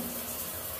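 A rainfall shower head runs in a hotel studio suite bathroom at Ocean Casino Resort in Atlantic City, a steady, close hiss of falling water with no voices.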